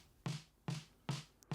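Low-pitched snare drum sample struck three times at an even, unhurried pace, each hit thick and punchy with a short airy decay, quiet and heard alone, with a faint tick at the very end.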